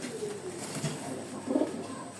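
A domestic pigeon kept at home, a female Shialkuti, gives soft, low coos, with a fuller burst of cooing midway through. The coos sound close but quiet, with no voices.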